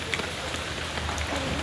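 Heavy rain pours in a dense, continuous hiss on surfaces outdoors, even and unbroken through the short stretch, with a few faint higher drips above it.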